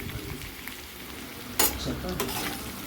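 Curry leaves and a pinch of turmeric sizzle in a pan of half-cooked potatoes for a simple potato fry, a steady close frying hiss with a sharp burst of crackle partway through and light stirring.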